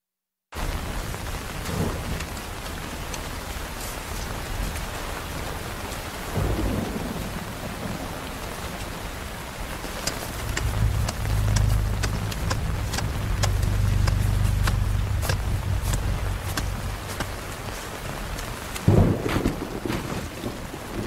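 Steady rain pours throughout while thunder rumbles low and heavy, swelling in the middle and cracking again near the end.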